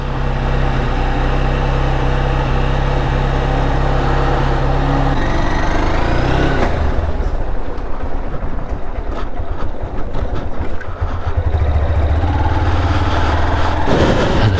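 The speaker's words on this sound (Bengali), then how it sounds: "এখন গাড়িটাকে করবো কোল্ড স্টার্ট" A motorcycle is cold-started and left idling to warm up before a Sunday ride to Kolaghat, its engine a steady low rumble with gusty wind buffeting the microphone throughout.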